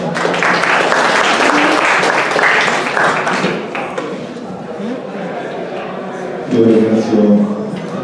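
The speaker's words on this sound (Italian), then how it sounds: "le facciamo un applauso" Audience applause at a talk on the legal professions, dense and loud at first, thinning out midway, with voices and chatter mixed in throughout.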